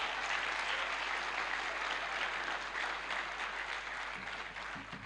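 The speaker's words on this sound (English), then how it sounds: "I think the past commandants here deserve a big round of applause" Sustained round of applause at a combined convocation lecture, honouring past commandants; a large hall of hands clapping evenly and fairly loud, continuing without talk and tapering slightly at the end.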